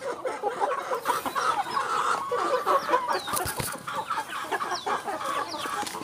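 Bangkok chickens at feeding time cluck and chatter steadily, a dense, close flock of overlapping calls with a few sharper squawks, continuous from start to finish.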